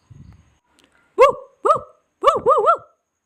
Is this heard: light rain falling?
no